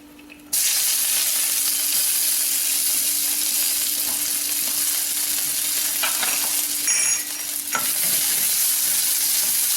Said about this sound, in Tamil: வெங்காயம் நல்ல ப்ரௌன் கலர் வர வரைக்கும் நல்லா வதக்கணும்.